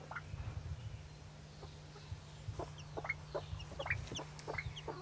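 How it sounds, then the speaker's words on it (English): A bantam hen and her chick cluck softly nearby. Short, scattered chirps and clucks repeat irregularly over a steady low hum. "This is the little bantam chick."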